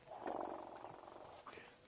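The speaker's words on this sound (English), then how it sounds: "So elephants can talk to each other. They use very low rumbles." Wild elephants on a safari drive give low, throaty rumbles. They are close and form a deep, purring drone that swells and then fades, with a softer rumble near the end.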